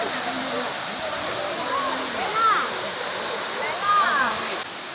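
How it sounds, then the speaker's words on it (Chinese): A waterfall on a mountain hike to Shizhu Peak in Hunan gives off a steady, moderately loud rushing hiss, with brief high chirps rising and falling over it. "如果再把这个瀑布想大一点的话，都变成黄果树瀑布了"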